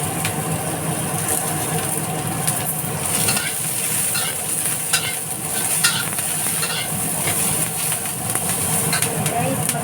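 Onions sauté in a pan with greens, sardines and oil, a continuous loud sizzle broken by scraping stirs and spatula clicks throughout.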